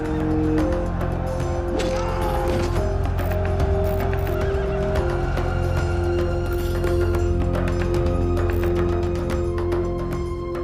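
Horses neigh and whinny repeatedly over steady clip-clopping hooves, loud and close, with the calls and hoofbeats layered into a busy, continuous scene.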